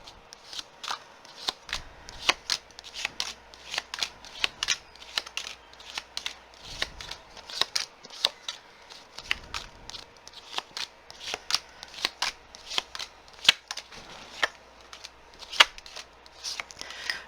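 Tarot cards being shuffled for a reading, a long run of quick papery riffles and flicks in an uneven rhythm, close and fairly quiet with no voice over them.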